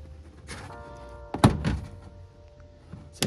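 Plastic door panel clips pop out of a 2014 Mitsubishi Outlander Sport door during a speaker replacement, giving two sharp, close thunks about two seconds apart over faint background rustle.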